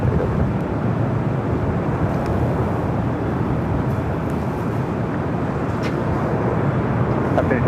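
Delta airliner taking off from runway 24 left at LAX, a steady broad jet roar heard from a distance that holds level throughout, with faint radio talk over it.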